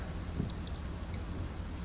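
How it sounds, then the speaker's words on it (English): Heavy rain during a thunderstorm, a steady dense hiss of downpour drumming on surfaces throughout, loud and continuous with no voices. "It's raining really hard."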